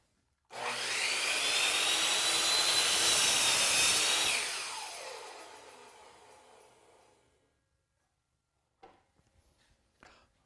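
A miter saw makes a bevel cut through wood molding, a loud spinning-blade whine biting into the wood for a few seconds, then winding down slowly to silence, followed by faint handling clatter.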